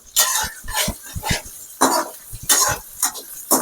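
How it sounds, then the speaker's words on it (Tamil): Garlic sautéing in a pan until browned for garlic rice, with repeated close spatula scrapes and stirring clatter over a soft sizzle, in bursts throughout. "நல்லா வதங்கட்டும் பூண்டு இந்த அளவுக்கு ப்ரௌன் ஆகணும்"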